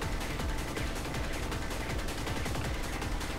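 Rapid gunfire in the Bullet Witch video game as the player shoots at a boss from a safe distance, a dense stream of shots over a busy game soundtrack, steady and loud throughout.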